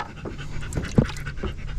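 A dog pants rapidly and rhythmically close by, with quick short breaths throughout.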